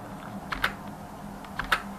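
Keys are tapped on a computer keyboard, ending with the Enter key, a few sparse, crisp clicks in two small clusters, close up over quiet room noise.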